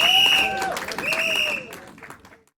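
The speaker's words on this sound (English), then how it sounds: "Can we, a round of applause, please." Audience applause at a book launch, a steady burst of clapping that fills the room before tapering off, mixed with some voices and tones.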